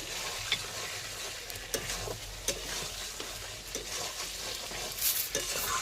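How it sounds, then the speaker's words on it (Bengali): Meat is sautéed in a pan while being stirred, with a steady sizzle broken by repeated scraping and knocking of a spoon against the pan, close and moderately quiet. "আমার মাংসটা কষানো হয়ে গেছে প্রায়"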